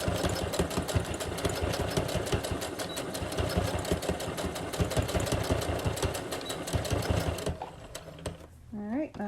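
A sewing machine stitches a cloth mask, running in a steady rapid mechanical chatter close by for several seconds before stopping, with a voice speaking alongside and briefly after.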